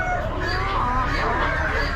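Royal and Red hens in clean open cages at an Amish spring animal auction keep up a continuous low clucking and murmuring, with a busy barn hum behind them.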